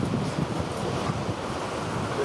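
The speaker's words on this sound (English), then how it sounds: "There's too much wind in here" Steady wind blustering against the microphone, a continuous low roar throughout.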